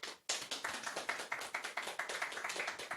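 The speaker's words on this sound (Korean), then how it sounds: "하나님께 감사 박수" A church congregation at a testimony gathering claps in thanks to God, starting after a brief pause with steady rhythmic group clapping at a moderate level.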